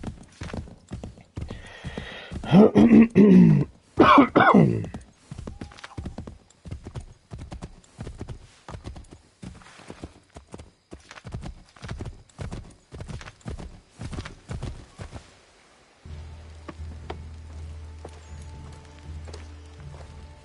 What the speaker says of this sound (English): down the hill, the horsey goes